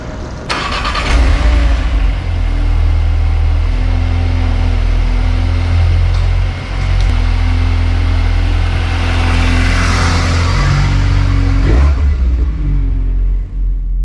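A 2023 Volkswagen Golf R with a 6-speed manual starts up and pulls away, its engine a loud, close, steady rumble that rises and dips through the run with gear changes and brief lifts near the end.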